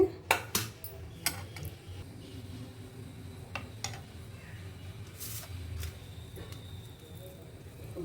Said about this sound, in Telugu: ఇదిగండి పోపులో పచ్చడి కలిపిస్తాను